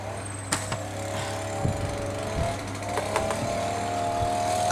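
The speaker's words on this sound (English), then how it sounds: "Hubby's mowing." Lawn mower running nearby in a yard, a steady droning engine hum with sharp clicks and knocks scattered through it, heard alone without talk.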